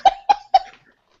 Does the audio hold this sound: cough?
yes